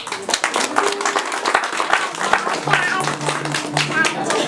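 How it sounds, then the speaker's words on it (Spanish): Family members clap at a birthday celebration, sparse and uneven individual claps rather than a full ovation, with voices talking throughout. "Fuerte aplauso"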